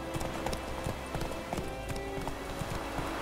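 Horse hooves clip-clop in The Witcher 3: The Wild Hunt, a brisk, even trot of close hoofbeats over game ambience with no one speaking.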